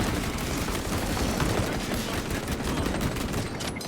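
An automatic gun fires continuously in Space Marine 2, a dense, steady, loud roar of shots with no pauses.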